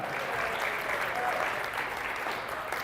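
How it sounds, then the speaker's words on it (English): Audience at a charity fundraiser breakfast claps steadily in a dense, sustained round of applause filling the room, with no pauses. "Now, I love that big applause"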